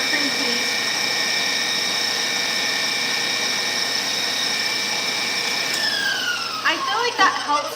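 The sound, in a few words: whisking cream cheese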